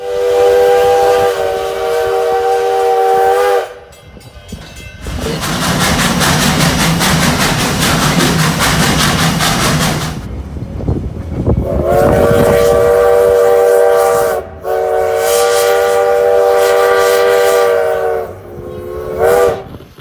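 A train passes loudly with long, repeated whistle blasts separated by brief gaps and a rumbling, hissing rush of rail noise between them.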